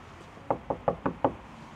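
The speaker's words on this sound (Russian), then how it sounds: "Если по голове постучать, такой же звук будет." Five hollow knocks in an even rhythm on a tin figure, close and distinct against quiet background.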